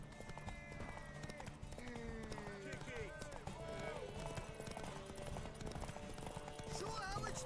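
A horse gallops fast during a race in The Witcher III, rapid hoofbeats running continuously under shouted voices and game ambience.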